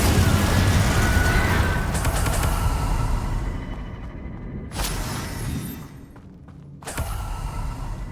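Spell effects from the video game Hogwarts Legacy: a dense roaring burst that fades, then sharp whooshing impacts and crackling blasts in quick succession, loud and close with no speech.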